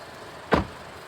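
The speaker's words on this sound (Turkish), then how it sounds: "Kapıyı kapatıyorum." A car door thumps shut once, a brief solid closing sound heard nearby from inside or beside the vehicle, with faint background hiss before and after.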